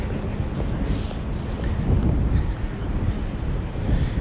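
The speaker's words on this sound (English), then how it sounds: "It is windy." Strong wind pounding the microphone on a street in Lower Manhattan, a loud, constant low rumble with gusty swells throughout.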